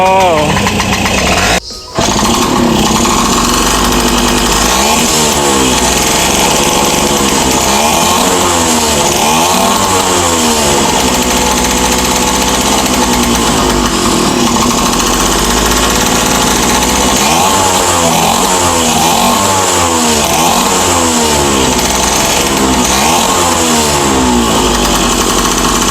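A Qingqi Baby Matic 50cc two-stroke scooter engine revs repeatedly, a loud, buzzy, rasping drone that rises and falls in bursts of throttle over about twenty-five seconds, heard close up with a voice occasionally over it.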